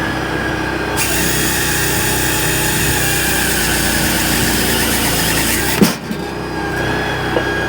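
A firewood log processor's small engine runs loudly and steadily as its cutting chain works through a log, with a brief dip and clatter near the end as the cut finishes.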